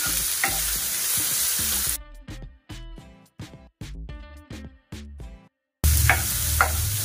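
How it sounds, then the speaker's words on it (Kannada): Onions and curry leaves fry in a pan on high flame for spicy dry pepper chicken, making a loud, close sizzle that stops for a stretch of music in the middle and then returns strongly. "ಆನಿಯನ್ನು ಹಾಗೆ ಕರಿಬೇವಿನ ಸೊಪ್ಪು ಎಲ್ಲದ್ರ ಜೊತೆಗೆ ಚೆನ್ನಾಗಿ ಫ್ರೈ ಮಾಡ್ಕೊಳ್ಳಿ"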